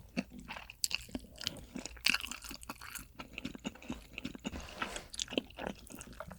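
Close, crisp chewing and crunching of giant rock oysters, wet bites and squishy mastication repeating irregularly in a quiet ASMR eating session, with no talking.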